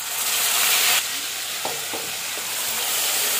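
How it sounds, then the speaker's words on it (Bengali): Mutton fries in a wok with loud sizzling and hiss that surges at first, then settles into a steady crackle with a few clinks of stirring. "মাংসটা আমি দিয়ে দেবো কড়াইয়ে"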